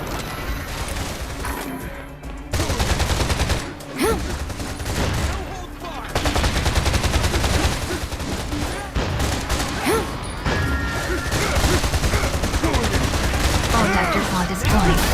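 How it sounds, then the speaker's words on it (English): Heavy combat in Freedom Wars as a pod is smashed open: rapid, dense bursts of gunfire-like impacts and crashes, loud and nearly continuous, with brief lulls and electronic game sounds scattered through. "Alright, let's smash that pod open."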